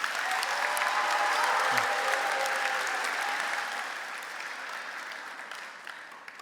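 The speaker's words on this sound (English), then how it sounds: "So how about a round of applause for the graduating class of 2025?" Audience applause for the graduating class of 2025 at a Hampden Charter School of Science graduation ceremony: a dense, steady clapping from a large crowd that holds for several seconds, then tapers slightly near the end.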